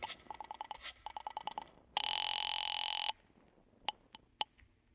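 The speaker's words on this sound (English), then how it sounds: "pick up the phone and call the guard at the gate" A telephone in an old-time radio drama sounds a run of quick pulsed chirps, then a loud, steady ring lasting about a second, and finally a few sharp, isolated clicks.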